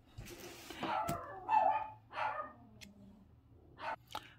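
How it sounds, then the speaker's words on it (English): A house dog barks close by in several separate bursts with quiet between them, and a person speaks softly in the background. "my dog seemed to be in a very large barking mood today"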